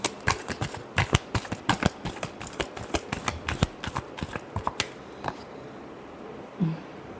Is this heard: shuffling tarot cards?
yes